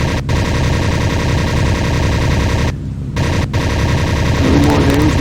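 Machine gun fire from a propeller fighter in the Linux Air Combat flight game, with long, loud rapid bursts over a droning engine, cut by short pauses.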